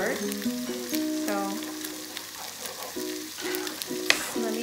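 A tilapia fillet fries in a pan over medium heat, a soft continuous sizzle with occasional pops, partly covered by tonal music running over it.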